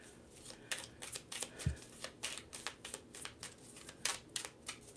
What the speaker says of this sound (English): They flipping all of these cards.